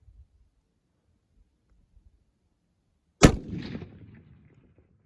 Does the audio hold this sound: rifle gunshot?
yes